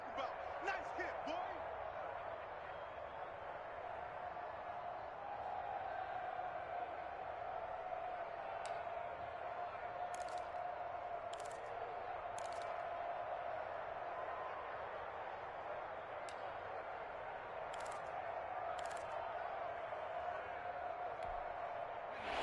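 Steady stadium crowd roar from an EA Sports football video game, a Bills game tied late with a big third down coming up, forming a constant bed with a few brief sharp accents.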